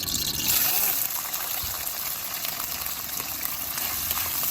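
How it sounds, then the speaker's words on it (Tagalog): Steady, loud sizzling and crackling of squid balls frying in hot oil, a constant hiss close by with a faint voice briefly underneath. "Unahin po natin i-prito ng bahagya ang ating squid balls o fish balls"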